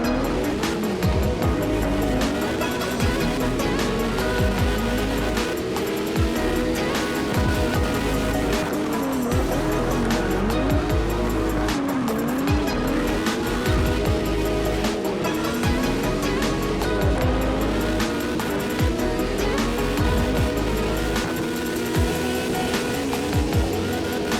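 A loud Nissan R32 drift car in the CarX Drift Racing online game, its engine roaring continuously and sweeping up and down in pitch with shifts and throttle changes, close and dominant throughout.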